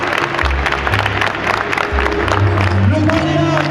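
An audience at a Benoît Hamon political rally in Paris claps and cheers, a sustained wash of applause with low musical tones booming underneath.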